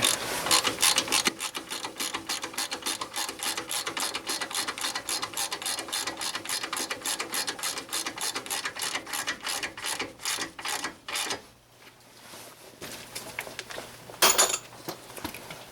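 A ratchet with a 22 mm socket tightens a castle nut on a tie rod end of a 2003 GMC Sierra or Chevrolet Silverado 2500HD, giving long runs of rapid, close, even clicks, then a pause and one short final burst.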